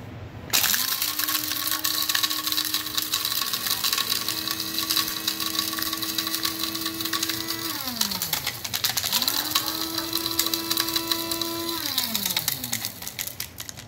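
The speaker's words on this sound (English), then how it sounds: "You put it in, and then you grind it." A spice grinder pulverizes small pieces of whole nutmeg in two continuous motor runs, a steady loud whir that winds down briefly near the middle and then spins up again before stopping.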